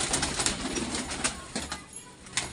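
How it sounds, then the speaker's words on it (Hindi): Pigeons let out of a net: bursts of wing flapping and fluttering come in quick irregular waves at close range, with soft cooing mixed in among the birds. "तो दोस्तों ये देखो मैंने सारे कबूतर जो खोल दिया है"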